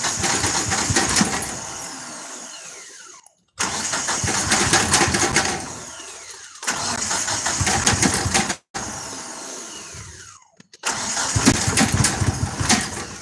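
A fuel-injected vehicle engine cranks and catches three times in a row, each start rising into a loud, steady running roar before cutting off abruptly, with no talk over it.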